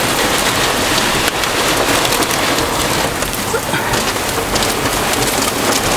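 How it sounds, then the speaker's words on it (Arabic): A heavy hailstorm with rain and strong wind: a dense, loud, continuous roar of hail and rain pounding surfaces, steady throughout with no pauses. "كمية البرد اللي موجودة غير عادية"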